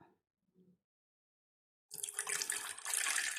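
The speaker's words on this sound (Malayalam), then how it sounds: "അതിലേക്ക് ഒരു ഗ്ലാസ് വെള്ളം" After near silence, a glass of water suddenly gushes and splashes steadily into a pot, a loud continuous pour lasting to the end.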